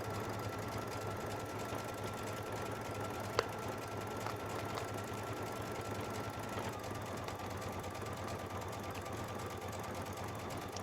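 A Baby Lock sewing machine with a leather roller foot runs a steady, quiet, even stitching whir, with a faint click partway through and no voices.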